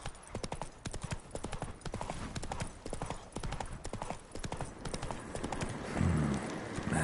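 A horse's hooves clip-clop in Witcher 3, a steady, rapid, close rhythm of crisp hoofbeats throughout, with a low thud near the end.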